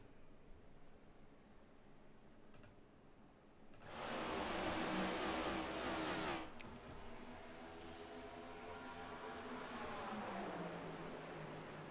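Race cars accelerate at the green flag start of the Jones Paints and Design Championship at Phoenix: a loud rushing roar swells for a few seconds, then engine notes climb as the pack pulls away.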